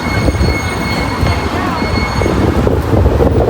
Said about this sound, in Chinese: 这边有刮风了